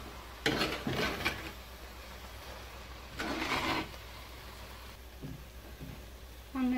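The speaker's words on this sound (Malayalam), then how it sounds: "നമ്മൾ ഈ അവിയൽ വൃത്തിക്കൊന്ന് ഇളക്കി കൊടുക്കുകയാണ്." Aviyal, a Kerala-style vegetable curry, is stirred in a pot, giving two clear bursts of scraping and clattering against the pot, with quieter scrapes in between and no talk.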